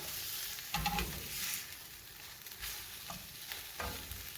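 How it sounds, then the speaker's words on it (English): Beef simmering and sizzling in a pan, a steady frying hiss with occasional louder bursts as it is stirred, close and moderately loud with no talking. "let's go ahead and just keep heating that up. So while the beef is simmering"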